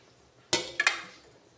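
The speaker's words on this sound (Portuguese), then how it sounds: "Agora vou misturar o macarrão cozido" Cooked macaroni being stirred into a mayonnaise pasta salad, heard as a sharp utensil clink against the bowl followed by two quicker clinks, close and alone over quiet.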